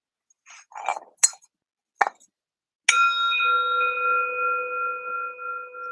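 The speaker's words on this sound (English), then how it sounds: "Sometimes a bell to signify this is the beginning." A meditation bell is struck once to mark the start of a session, ringing out clear and bright and then sustaining in a long shimmering decay, preceded by a few small taps and clicks in an otherwise quiet room.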